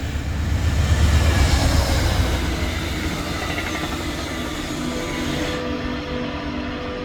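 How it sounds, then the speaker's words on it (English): Amtrak train 64 led by locomotive Amtrak 100 passing trackside, a broad loud rumble swelling early then settling into a steady rolling roar of cars going by, with no talk. "I would catch Amtrak train number 64"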